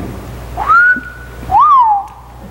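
Two clear whistled notes, the first rising and held, the second swooping up then sliding down, loud and close with a quiet pause between.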